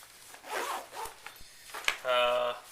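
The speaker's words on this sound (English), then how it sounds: "We'll zip this back up." A zipper on a Coleman Revel 8L hydration pack is pulled shut in a few short rasping strokes, close and clear, with some rubbing of fabric between pulls.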